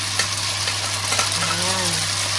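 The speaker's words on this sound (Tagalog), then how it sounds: "Naglagay ako ng konting olive oil. And then, lagyan na natin yung pasta." Pasta tossed into a hot pan with a little olive oil gives a steady, close sizzle with faint stirring. A low constant hum runs underneath, and a brief voice-like tone drifts in near the end.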